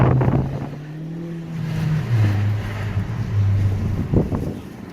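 A 2018 Honda Accord with the muffler deleted idles and revs, its deep exhaust note rising and falling over strong wind buffeting the microphone outdoors.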